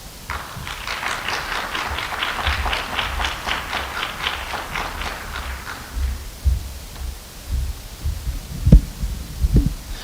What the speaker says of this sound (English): please give her a round of applause for Lex Scott.